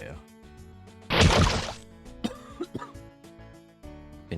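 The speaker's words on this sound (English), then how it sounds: "Been coughing for over 2 weeks." A person lets out a loud, harsh burst of coughing at close range, followed by throat-clearing sounds over music from a game.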